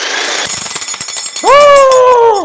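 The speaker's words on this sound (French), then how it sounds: "il fait un méchant bruit le marteau-piqueur" Jackhammer in a video game, rapid rattling pounding that stops and gives way to a sustained tonal whine, loud and close.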